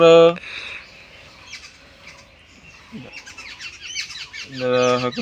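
A rescued dove-like bird with brown plumage giving short, bright chirping calls close by, a loud burst at the start and end with faint chirps between, while people talk quietly.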